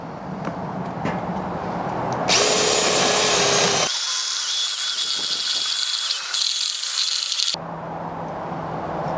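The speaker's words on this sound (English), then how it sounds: "gonna use a spoon on a drill" A power drill spins a spoon inside a pumpkin, whirring loudly, scraping and grinding inside the hollow for several seconds, with brief stops and shifts in pitch.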